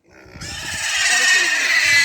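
A pig on a farm makes a sustained squealing, grunting noise lasting about two seconds, loud and close, with a low murmur of people in the background.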